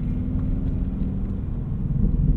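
A 2020 Ford Mustang Bullitt V8 with its exhaust opened in Sport Plus mode, holding a steady, loud, low rumbling drone throughout with no talk.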